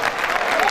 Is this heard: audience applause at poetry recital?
yes